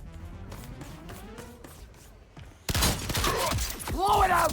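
Weapon impacts and damage effects in a Sega video game: a run of faint, sharp hits and taps, then a much louder burst of dense crashing and shattering, with a voice talking over parts of it.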